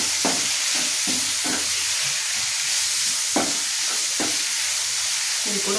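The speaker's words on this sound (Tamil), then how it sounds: "இதையும் சேர்த்து நல்லா வதக்கிக்கோங்க" Onions and tomatoes sauté in a pan for a Tamil-style ridge gourd curry, with a steady sizzling hiss and a few irregular soft taps of stirring.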